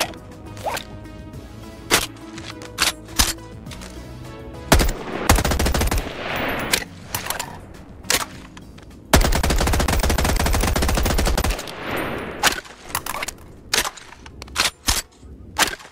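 Gunfire from an Apex Legends/Titanfall weapon mod in the VR game Bonelab: loud single shots and short bursts ring out separately, then two long sustained automatic volleys, followed by more scattered shots.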